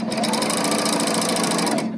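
An L890 serger stitches fabric in a steady, loud mechanical whir that runs close and unbroken for about two seconds with a fast regular rhythm, then stops cleanly.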